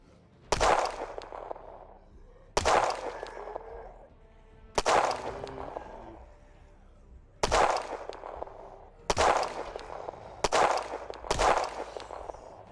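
Project Zomboid gunfire near a military base: seven loud, sharp shots spaced irregularly, each with a ringing tail that fades before the next.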